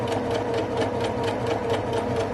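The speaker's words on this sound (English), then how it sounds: "And sew it down at 1/4 inch seam allowance." A sewing machine runs steadily while stitching a quarter-inch seam on a fabric face mask with a filter pocket, a close, continuous rhythmic whir with a fast repeating needle pulse.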